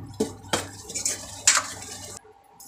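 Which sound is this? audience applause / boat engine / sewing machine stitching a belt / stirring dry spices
stirring dry spices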